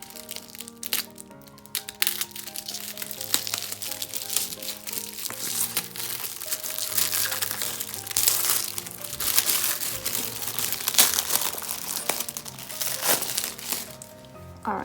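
Plastic shrink wrap on a K-pop album crinkles and crackles continuously as it is handled up close, with faint music playing in the background.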